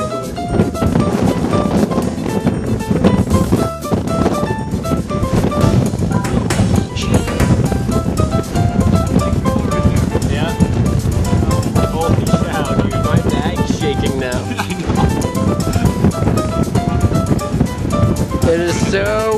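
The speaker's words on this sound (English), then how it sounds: "It is so windy up here." Strong, steady wind roars and buffets the microphone without letup on the exposed mountain summit of Mt Chocorua, loud and constant throughout, with occasional voices mixed in.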